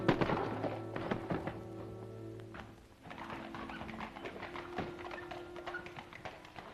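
Horses' hooves clip-clop as a carriage is driven, a soft irregular patter of taps and thunks under a low rumbling background, at moderate distance.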